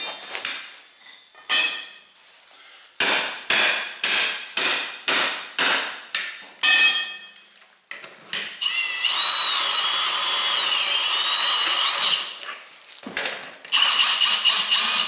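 A portable bead breaker works on a tire rim with a run of sharp, loud metallic clanks and knocks, then a sustained grinding, squealing stretch of a few seconds before the clanking resumes, close and with no talk.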